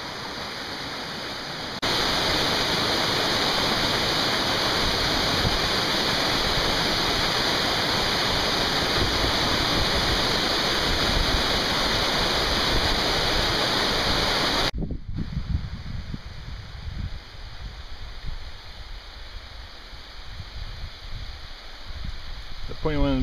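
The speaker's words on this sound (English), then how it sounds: "There's a waterfall up in there." Steady roar of a mountain waterfall in a high basin, loud and broadband for most of the clip, then cutting to a quieter, more distant rush with faint background movement.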